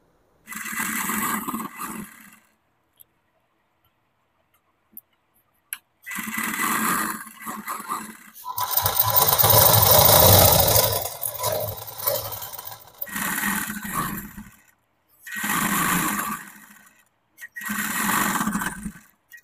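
An electric sewing machine runs in repeated bursts while stitching a cotton petticoat, each run whirring for a few seconds before stopping, with a longer steady stretch in the middle and silent gaps between runs.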